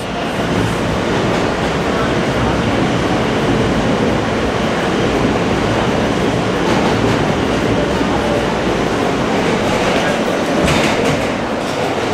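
A New York City subway train rides along with a steady, loud rumble and rattle of the car on the tracks, continuous throughout with faint clacking and no talk.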